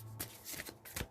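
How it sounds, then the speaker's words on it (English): A deck of Sacred Self-Care oracle cards being shuffled by hand, a few quick soft riffling bursts close up and quiet, with a brief snap at the end. "I'm just going to shuffle some Sacred Self-Care"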